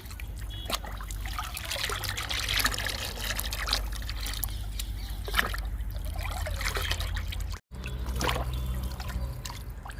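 Liquid NPK fertilizer poured onto garden plants makes a continuous close trickling and splashing of liquid, with a brief pause near the end before the pouring resumes.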